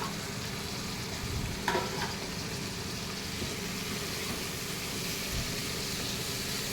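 Chukkakura sorrel leaves frying in oil with turmeric for a chicken curry, a soft continuous sizzle with faint stirring, steady and alone.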